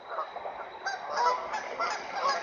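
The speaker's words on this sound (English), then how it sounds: "Oh, something just spooked the ducks." Startled ducks, or geese, calling in a sudden burst of overlapping honks and quacks, fairly close and continuous over a noisy outdoor background, with no talking.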